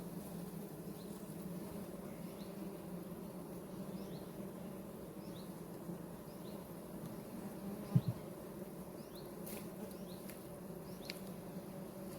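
A soft, steady hum of many honey bees buzzing close by on a hive frame, continuous and low, with a single brief tap near the end.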